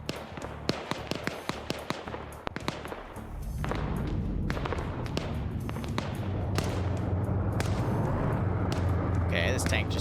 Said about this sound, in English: We're hearing what might be a cannon round from maybe a BMP or a tank